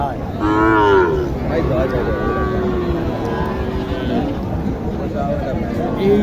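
Cattle low with long, loud moos at a busy village livestock market in Naogaon, Bangladesh, where Sahiwal heifers are sold, the calls rising close by over a constant murmur of voices and crowd noise.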